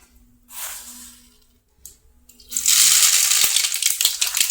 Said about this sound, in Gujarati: તેમાં હું 1 ચમચી રાઈ નાખીશ